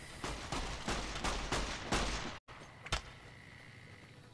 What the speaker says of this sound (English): like literally a gunfight happening out there somewhere